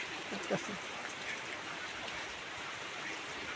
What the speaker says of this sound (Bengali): বৃষ্টিটা পড়তেছে